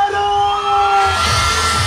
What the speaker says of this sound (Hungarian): köszöntsük ismét egy hatalmas sikolyan a Party Shakers-nek a csapatát